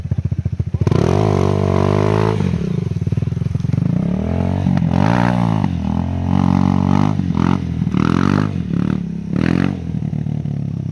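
A trail motorcycle engine revs loud and close without a break, its pitch rising and falling through repeated throttle blips as the bike works along a dirt trail.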